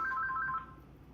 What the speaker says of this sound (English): Of course, the phone would ring.